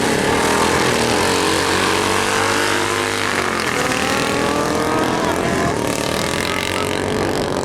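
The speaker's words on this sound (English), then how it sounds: "here we are with the Manx again, running alongside the early Kawasaki superbike in the right-hand lane" Vintage racing motorcycles, a Manx Norton and an early Kawasaki superbike, roar side by side in a no-prep drag race, a loud continuous engine blare with rising pitch sweeps as they accelerate.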